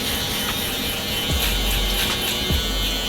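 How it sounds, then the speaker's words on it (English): Electric shaver gliding over a head during a buzz cut high fade, a close continuous buzz with two deeper pulses as it presses along the scalp. "So just gently gliding, letting the shaver do all the work."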